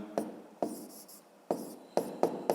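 A pen writes by hand during a math lesson, giving a short series of sharp taps and quick scratchy strokes in an irregular rhythm, faint and close, with no talking.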